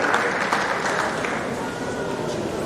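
A crowd at a memorial lecture breaks into a continuous round of applause, thick and even throughout, with faint voices mixed beneath the clapping.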